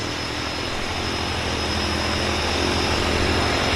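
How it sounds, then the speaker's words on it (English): A de Havilland Beaver floatplane's propeller engine drones steadily at a Vancouver float base, a continuous rumble that holds even and grows slightly louder toward the end, with no voices. "We can't miss the Beaver takeoff."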